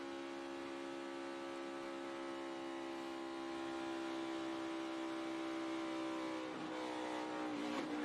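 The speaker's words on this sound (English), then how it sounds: "So we'll just watch those RPMs, listen to that engine." A car engine holds a steady, loud mechanical drone with sustained harmonic tones for the whole stretch, rising slightly near the end, and no talking over it.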